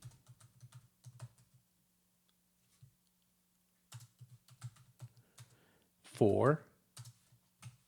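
Keys clatter on a computer keyboard while an Excel invoice is typed, with short bursts of close, light clicks, a pause in the middle and then more typing, and a brief voice cuts in near the end.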